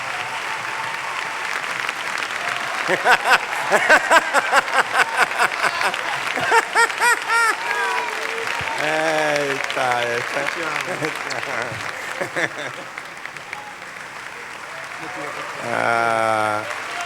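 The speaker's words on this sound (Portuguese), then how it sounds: "Queria que vocês recebessem ele aí com um aplauso abençoado, para glorificar a Deus." Church congregation claps in rhythmic unison, loud regular beats that swell and then loosen, with laughter, scattered voices and sung or held tones woven through and a louder burst near the end.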